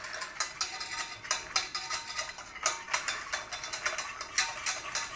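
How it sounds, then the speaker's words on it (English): A utensil is stirred vigorously through whiskey bourbon cream sauce thickened with xanthan gum. It makes a fast, rhythmic clatter and scraping against the container, close and alone without voices. "xanthan gum all over the top and stir it in vigorously"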